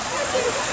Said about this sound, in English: water is coming out